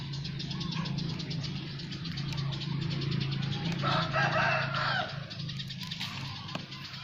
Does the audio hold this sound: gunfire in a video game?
no